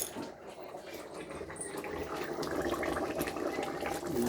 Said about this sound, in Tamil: கொதித்து வரும்போது தேங்காய் பாலை, தேங்காய், கசகசா, சோம்பு போட்டு அரைச்சதை ஊற்றியாச்சு.